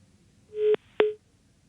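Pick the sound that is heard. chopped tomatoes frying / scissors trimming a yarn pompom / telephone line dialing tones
telephone line dialing tones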